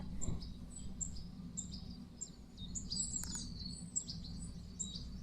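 Small pet birds chirp and tweet in rapid, repeated high calls over a steady low background hum, with a few brief clicks; no talking.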